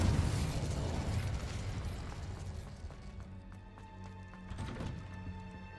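A Confringo spell explodes in Hogwarts Legacy with a loud burst that decays into crackling debris, followed by softer magical chimes and a second smaller pop.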